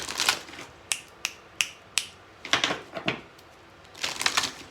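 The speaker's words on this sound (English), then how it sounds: "I'm going to do 3 shuffles." Tarot cards are shuffled up close in crisp bursts, a riffle at the start and another at the end with several sharp single snaps and taps between them, quiet and alone with no talking.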